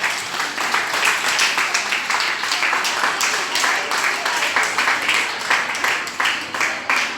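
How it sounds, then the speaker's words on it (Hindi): Schoolchildren at a government senior secondary school in Gurugram clap together in a dense, steady burst of applause, close and loud throughout, with voices mixed into the clapping. "तालियां बजाओ।"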